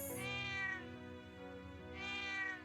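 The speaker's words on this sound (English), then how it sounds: "I would rather pet the cute fluffy cat." A cute, fluffy cat in the video game Trails of Cold Steel II gives two drawn-out, loud meows close up, one at the start and one near the end, with no talking.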